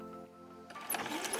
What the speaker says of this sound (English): I'm just gonna sew this scrap onto the batting with a straight row of stitches.